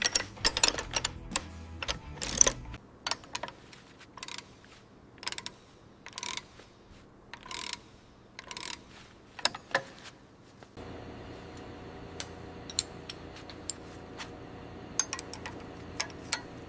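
A ratchet tightens the mounts on an old Hino 700 mixer truck, a run of sharp, close mechanical clicks coming in repeated bursts, with a steady low hum joining partway through.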